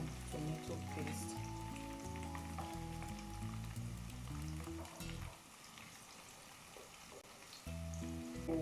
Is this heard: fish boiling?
yes